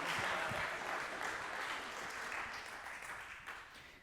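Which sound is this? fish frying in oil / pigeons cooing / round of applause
round of applause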